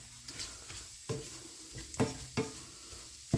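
A utensil stirs sausage gravy in a greasy pan, making several distinct scraping strokes over a soft background sizzle, close and moderately loud.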